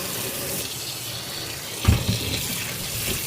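Running tap water pours into a kitchen sink as raw chicken is rinsed, a steady wash of flow with a brief louder splash partway through, close by and with no talk.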